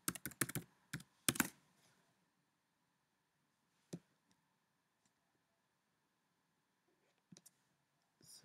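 A password is typed on a computer keyboard: a quick burst of crisp key clicks at the start, then a few isolated taps spread out over a quiet background.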